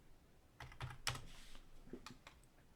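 Fingers tap rapidly on a computer keyboard in a quiet room, a quick burst of keystrokes followed by sparser presses, close and clear.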